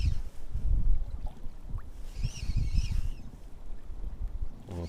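Gusty spring wind buffets the microphone while spinning for fish on the water, giving low rumbling bursts that rise and fall, with a faint bird call briefly audible in the middle.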